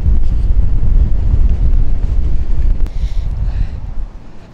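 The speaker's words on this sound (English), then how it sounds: "But it's so windy and it's cold and windy and sunny." Strong wind on the ocean coast near Cariló, Argentina, buffeting the microphone in heavy low rumbling gusts, easing slightly toward the end, with no talking.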